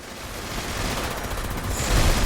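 Artillery strike landing in Fallout 76, a dense rolling barrage of booming explosions and crackling gunfire-like bursts that builds steadily louder over a couple of seconds, with no voices.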